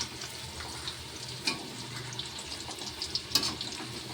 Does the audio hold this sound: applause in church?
no